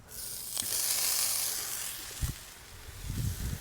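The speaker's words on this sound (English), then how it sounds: "we're gonna go ahead and toast up the Spam" Two slices of Spam sizzle loudly on a hot griddle, a steady bright hiss that swells early and then eases, with a few soft thuds and scrapes near the end.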